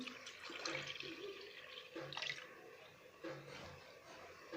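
Half a kilo of milk pours into a jug, a close liquid splashing that comes in a few short bursts with brief pauses between them.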